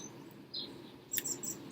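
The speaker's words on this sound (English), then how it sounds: "listen to the birdsong that surrounds me" Birds chirp outdoors in a few short, bright calls, faint against a quiet ambient background.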